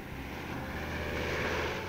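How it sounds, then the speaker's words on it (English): A small, low-flying Army liaison plane drones steadily overhead, its propeller engine giving a continuous, moderately distant hum with no break. "But it's no problem for the little hedge-hopping Army planes"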